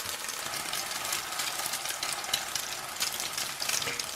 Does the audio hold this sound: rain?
no